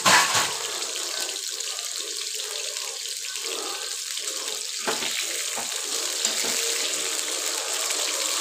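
Tap water runs steadily into a sink as fresh coriander is rinsed for an eggplant curry, a continuous close hiss with a brief splash at the start and faint handling underneath.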